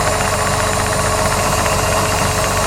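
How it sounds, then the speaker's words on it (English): A brand new engine in a ship's engine room running smoothly, a loud, steady, dense mechanical drone with a fine, rapid knocking pulse and no change in pace. "But the engine's running really nice."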